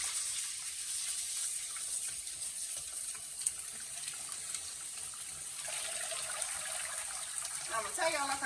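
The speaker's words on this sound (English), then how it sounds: "Drop them in that water that's running." A kitchen faucet runs steadily into a sink while leafy greens are dropped and washed in the stream, a constant watery rush with brief splashing and sloshing toward the end.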